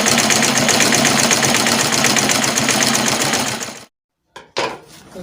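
Close, loud sewing machine whirring steadily while sewing a gown, then stopping abruptly, followed by a short mechanical clack.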